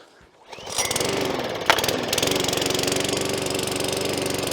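A petrol lawn mower engine catches after a pull of the starter cord and settles into a loud, steady, chugging idle close by.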